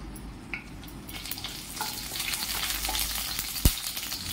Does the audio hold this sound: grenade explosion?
no